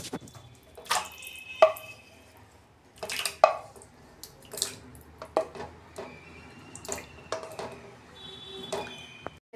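About 200 grams of paneer is put into cold water, with irregular drips, splashes and light clinks of a bowl or pan recurring over nearly ten seconds, close and moderately quiet.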